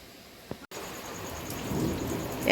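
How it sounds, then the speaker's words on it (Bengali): A night thunderstorm with rain: a soft steady patter of rain with a low rumble of thunder building toward the end, fairly distant, no voices. "কান পেতে শুনলে হবে ঝড় আসছে"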